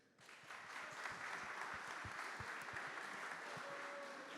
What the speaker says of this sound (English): Round of applause for Sadiq